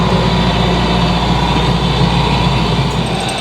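A sailboat's auxiliary engine runs while under main and jib, giving a loud, steady, unbroken drone throughout with no speech.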